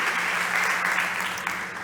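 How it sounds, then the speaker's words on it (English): A full house at a startup competition gives a burst of steady, dense applause, loud and even throughout the short stretch, with no speech over it. "Please give a huge round of applause for Julia Catherine Rode from Corbiota."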